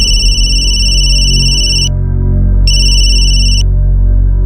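An electronic phone ringtone plays in two loud, high, steady tonal bursts separated by a short gap, over a low background hum.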